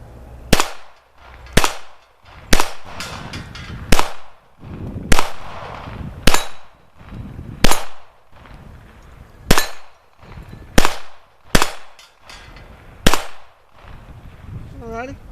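Kel Tec CP33 pistol firing about a dozen sharp, loud shots at a steady, unhurried pace, each crack trailing off in a short outdoor echo, with no talking in between.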